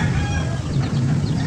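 A backyard hen clucking while brooding eggs, a short run of low, close clucks in a coop with no speech.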